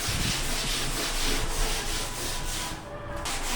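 Sand and washing powder are scrubbed hard against the inside of a water tank, a steady, harsh gritty rubbing with repeated strokes, close and loud with no talking.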